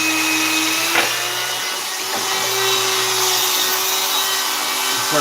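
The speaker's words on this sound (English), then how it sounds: "This is the Dremel polishing bit. So what I do now is I turn this on, hit some of the polishing compound." A Dremel rotary tool fitted with a polishing bit runs with polishing compound on guitar frets, giving a continuous high-pitched whine that stays steady and loud throughout, with a couple of brief knocks.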